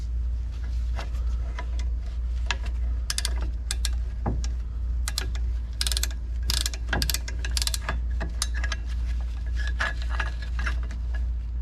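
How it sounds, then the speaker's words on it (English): A ratcheting piston compressor tool being worked on a Hellcat brake caliper while fitting Power Stop pads, giving a steady run of close metallic clicks and clatters over a constant low hum. "this basically pushes your pistons out when you ratchet it"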